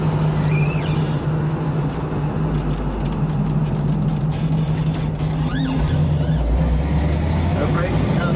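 A 1970 Chevrolet Camaro Z28 cruises down the road, its engine a constant low drone with road and wind noise heard from inside the car, steady throughout.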